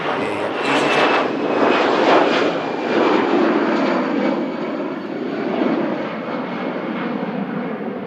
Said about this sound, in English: Flight heading down to Tenerife South on the EasyJet.